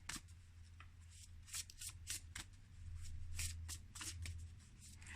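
A deck of tarot-style oracle cards being shuffled by hand at close range, a steady stream of crisp riffling and sliding flutters with soft taps, over a low constant background hum.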